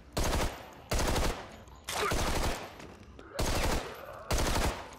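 Gunfire from the zombie game Contagion comes in five loud, separate volleys of rapid shots, each burst lasting about a third of a second and divided by short gaps.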